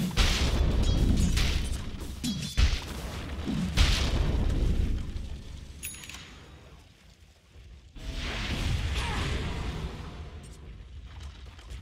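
A tower collapsing in a video game: several loud booms and crashing impacts come first, then a quieter lull, then a second rumbling burst of destruction, with no speech.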